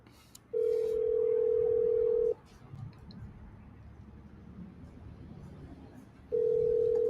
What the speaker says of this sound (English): let me give a call over to Tom's wife